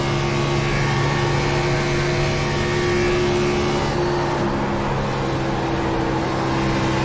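Race car engine in the iRacing East Series at Las Vegas coasting off throttle through a turn, a steady loud tonal drone with the pitch easing slightly partway through, with no voices.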